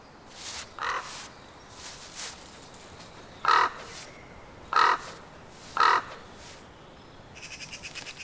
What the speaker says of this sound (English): Crows don't care much for fresh meat.